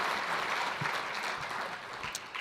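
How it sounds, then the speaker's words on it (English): Audience at an economic forecast event applauding its sponsors, a steady, fairly faint patter of clapping heard from a distance throughout. "If everyone could give our sponsors a round of applause,"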